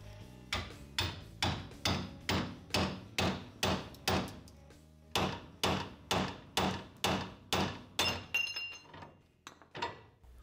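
Repeated hard hammer blows on a steel ball joint of a classic Ford Mustang front suspension, about twenty sharp metallic strikes in a steady rhythm, loud and close, with a brief pause midway and a few ringing clinks near the end.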